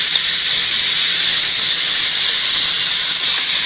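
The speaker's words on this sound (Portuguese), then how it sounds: "De novo, eu vou falar daquela palavra, vou sauté a carne" Meat sautéing on a very hot wood-fired stove gives off a loud, continuous, close sizzling hiss that holds steady from start to finish.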